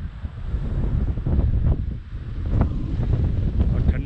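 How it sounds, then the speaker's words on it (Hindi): Strong, cold wind roars and buffets at a hilltop viewpoint, a constant low rumble with gusting swells close to the microphone, and no talk heard. "हवा इतनी तेज़ चल रही है"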